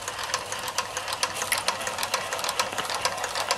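A German Doll 365 toy steam engine runs on live steam, giving a rapid, even ticking and chuffing beat with a light metallic rattle, close and moderately quiet.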